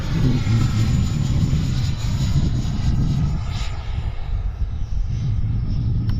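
A jet-like whooshing roar from an FMS 80mm F-86 RC electric ducted fan jet passes overhead, steady and broadband with rising and fading hiss, heard at a distance with no voices.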